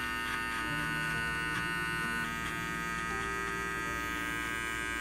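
Electric hair clippers run continuously on a taper fade, a steady buzzing hum with slight variations as the blades move through hair.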